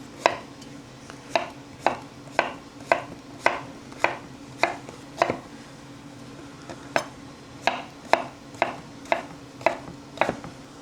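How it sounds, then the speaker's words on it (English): A knife chops vegetables steadily on a cutting board, sharp knocks in uneven bursts of quick strokes with brief pauses, close and clear. "I'm just chopping them"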